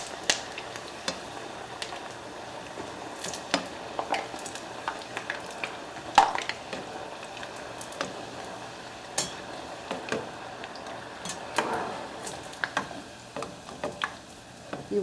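Homemade tortilla chips fry in hot oil with a soft, steady bubbling sizzle, dotted with scattered clicks and taps from handling them, moderately quiet and close.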